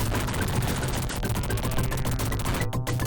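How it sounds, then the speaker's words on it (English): Rapid repeated gunfire from the Sega Mega Drive game Bodycount, a continuous barrage of shots layered over a droning game soundtrack, loud and unbroken. "So as you can see, as I shoot stuff"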